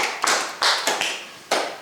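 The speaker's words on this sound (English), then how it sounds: "Round of applause for the cellos." Wedding guests clap for a cello trio after the ceremony music, a few sharp, separate bursts of hand claps close by, with no voices.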